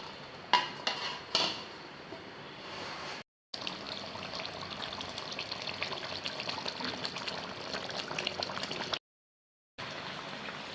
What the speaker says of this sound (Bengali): নেড়ে মাছটা ঢেকে দেব।